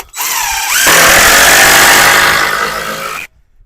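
A power drill drives a screw into a wooden board on a horse fence, a single loud close whir rising in pitch as the screw bites and then stopping.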